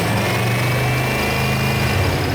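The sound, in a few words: supercharged Corvette engine idling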